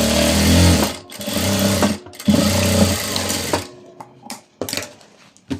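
A sewing machine stitches long frock cloth in loud close bursts of rapid whirring, a longer run then a second run, followed by brief pauses and short stop-start stitches.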